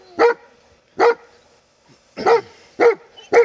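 Great Pyrenees dogs bark at a snake, five loud, deep barks in an uneven rhythm with short pauses between them, close to the microphone and with no talking.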